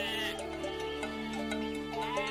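A sheep bleats in a long wavering, quavering cry, clear and fairly close, with a second softer bleat following, no talking.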